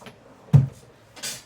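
A drawer holding makeup slides open indoors with a single dull thump, followed by a light rattle as it settles, close and brief.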